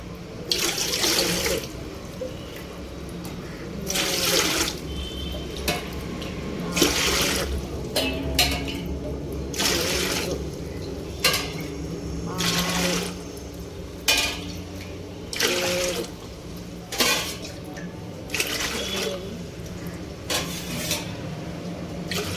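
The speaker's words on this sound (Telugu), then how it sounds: "గ్లాసులతో నీళ్ళు కొలుచుకుందాము" Repeated bursts of water pouring into a vessel, measured out glass by glass for semolina papad, about a dozen separate pours with short pauses between them, close by, with faint background noise.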